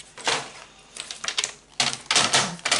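Scissors cutting paper triangles for a folded berlingot gift box, crisp snipping strokes in several short bursts with pauses between, close up and with no voices.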